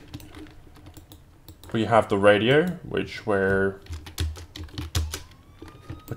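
Rapid typing on a computer keyboard in a Roblox police simulator, a dense run of clicky keystrokes heard partly beneath someone talking and continuing alone afterward.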